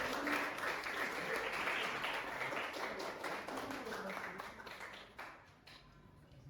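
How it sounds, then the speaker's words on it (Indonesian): Dense, steady applause from a classroom audience for a group that just finished presenting, continuous clapping that thins out toward the end. "Kita beri aplaus untuk teman yang sudah."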